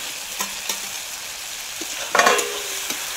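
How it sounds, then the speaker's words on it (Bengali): Fried potatoes go into a sizzling fish masala for boal fish curry, with a few sharp spoon scrapes and knocks, then a brief louder crackling sizzle as they hit the hot oil. "এবার আমি ভেজে রাখা আলুগুলোও দিয়ে দেবো মশলার মধ্যে।"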